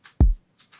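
A single attack kick drum sample from a trap-style production, one loud, punchy, deep thump with a short tail, flanked by faint hissy breath-like noises, with no voices.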